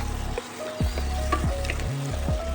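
Onion and tomato frying with turmeric and chili powder: a loud, close sizzle broken by several scraping stirs of a spoon against the pan, no voices.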